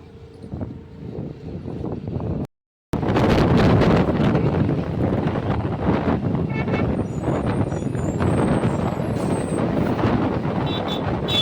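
Strong outdoor wind buffets the microphone at a temple anniversary festival, a loud continuous rumbling roar broken by one short dropout, with faint voices beneath it.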